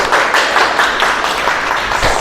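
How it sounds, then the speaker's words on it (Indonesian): A classroom group of high school students claps together in a short, lively burst, close and fairly loud, with no talking over it. "Tepuk tangan dulu."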